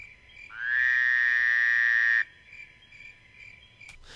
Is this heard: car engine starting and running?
no